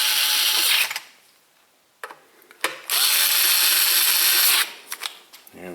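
A power screwdriver whirs in short, loud bursts, driving screws into the cover of a KitchenAid Professional 5 Plus stand mixer, separated by brief pauses and a few clicks.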